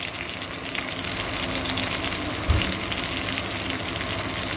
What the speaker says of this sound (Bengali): নুন হলুদ দিয়ে খুব ভালো করে আলু আর কচুটাকে কষিয়ে নেব